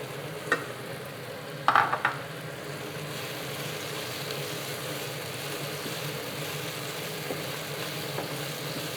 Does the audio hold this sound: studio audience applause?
no